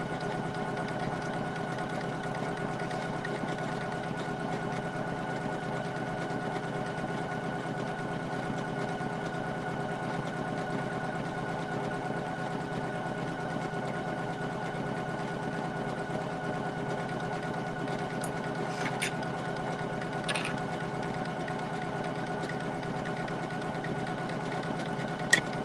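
A Poolin EOC06 single-needle embroidery machine stitches steadily and continuously at close range, a dense mechanical whir with a humming drive, and a couple of brief higher clicks near the end.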